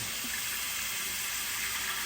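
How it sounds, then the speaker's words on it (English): Spray bottle misting water onto a face before a shave, a steady hiss that stays even and close for about two seconds. "I'm just gonna spray some water here on the face."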